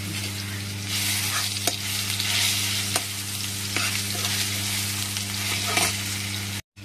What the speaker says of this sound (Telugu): ఇందులో పచ్చిమిరకాయలు కూడా వేసి వేయిస్తున్నాను.